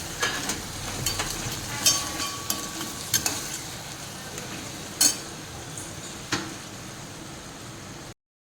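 Cumin and sugar being stirred through hot oil for a khaman tempering in a pan, a steady sizzle with scattered scraping clicks of the spoon against the metal, close and fairly loud.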